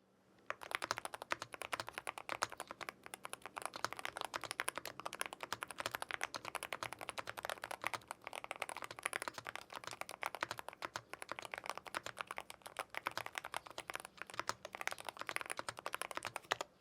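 Rapid, continuous clacking of keys on a mechanical keyboard, an alternative to the Wooting 80HE, close up and even-paced, with no voices.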